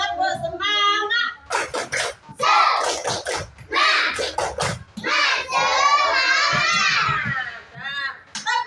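Schoolchildren in an Islamic religion classroom perform a rhythmic spirit clap, sharp clustered hand claps in bursts mixed with loud chanting children's voices close by.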